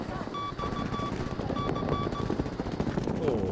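Gunfire in the video game Battlefield V, played as an Assault-class soldier: repeated rapid bursts of automatic fire, loud and close, mixed with game effects while someone talks over it.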